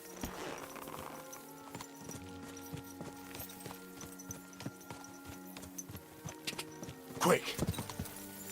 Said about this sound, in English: Eu vou a cavalo ali.